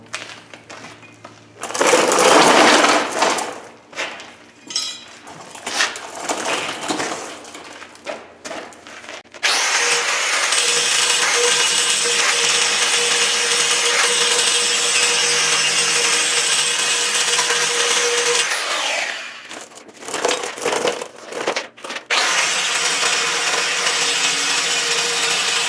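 Angle grinder cutting into metal on a 2005 Chevrolet C4500 Kodiak dump truck, a loud steady whining run with an earlier burst, brief pauses and restarts partway through, close and with no talking.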